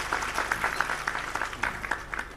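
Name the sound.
audience applause for the police chief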